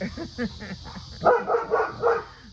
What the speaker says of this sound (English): You hear another dog out. I think it's next door.